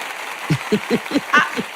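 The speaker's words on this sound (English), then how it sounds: "I gotta give you another applause" A short run of six evenly spaced hand claps, close and fairly soft, given as a round of applause during a show celebrating a top seller.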